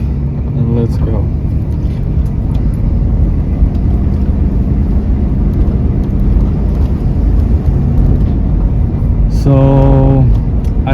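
A 1985 Chevy K5 Blazer 4x4 squarebody V8 runs steadily up close with a constant, loud broadband roar. A brief voice-like tone appears early on and again near the end.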